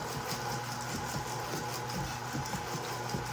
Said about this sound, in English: If you have a KitchenAid mixer, the lowest speed is called stir. And that's what I'm using.